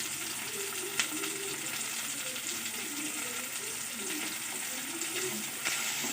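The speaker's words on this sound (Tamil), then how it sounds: "தக்காளி போட்டு தக்காளி கொஞ்சம் வதங்கட்டும்." Soft, steady sizzle of tomatoes frying with curry leaves and coriander in a pan, low and continuous with faint clinks now and then.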